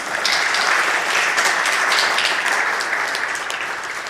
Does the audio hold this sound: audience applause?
yes